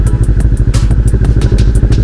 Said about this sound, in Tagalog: kailangan daw ipasok na yung mga motor.